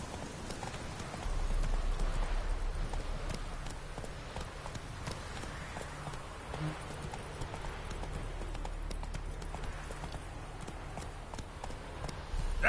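Roach the horse galloping in The Witcher III, a continuous rapid clip-clop of hooves at steady volume for most of the stretch, with no talking.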